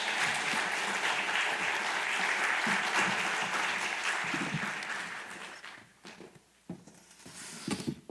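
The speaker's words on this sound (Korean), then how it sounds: "강사 목사님 나오실 때 박수로 맞아주십니다." Church congregation at a regional revival meeting applauding to welcome the guest pastor, a full, steady round of clapping that fades after about five seconds, leaving scattered claps and room noise.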